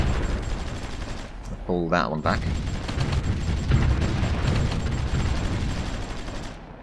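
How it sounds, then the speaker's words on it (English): Gunfire and explosions from battles in the strategy video game Supreme Ruler Ultimate rumble as a dense, continuous barrage of shots and booms, while someone talks over the fighting. "That's a lot of fighting and a lot of explosions."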